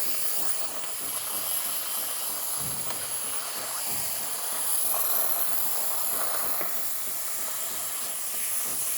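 Steam hissing from the wand of a freshly repaired Jura S9 coffee machine, a steady close, loud rushing hiss that holds for the full nine seconds with slight swells and no talking.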